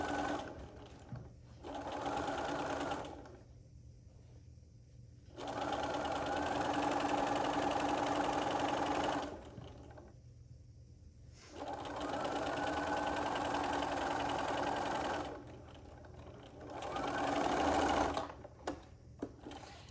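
Sewing machine stitching the binding onto a cross stitch pillow, running in three long close bursts of steady mechanical whirring, separated by short pauses with faint handling noise.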